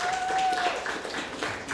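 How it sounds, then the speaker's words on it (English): Audience applause at a Berkeley Tenants' Union annual membership meeting: a dense, steady wash of clapping that holds for about two seconds, with a thin high whistle-like tone over the first part. "let's give a round of applause for that"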